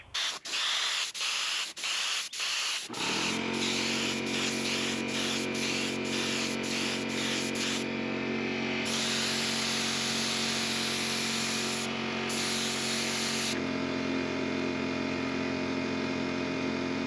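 Glue spray gun hissing a steady, loud spray while coating a new headliner and trim pieces for a flood-damaged Corvair, preceded by a few short bursts, then one continuous jet broken by brief pauses.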